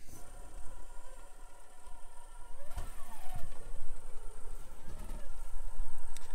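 An FMS FCX24 Power Wagon RC truck with a Furitek brushless motor crawls slowly, giving a faint, steady electric hum with soft mechanical ticks and light rustling from the tires. The sound swells gently as it moves.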